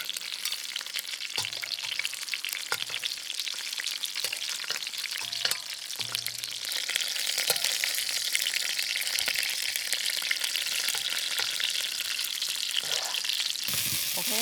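Shrimp-stuffed sweet mini peppers fry in a hot pan, giving a steady bright sizzle that grows louder and denser partway through, with a few soft clatters and no talking.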